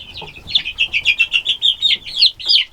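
Young chickens, pullets and big meat broilers, chirp and cluck in a pen, a quick run of a dozen or so bright, evenly paced calls close by, with no talking.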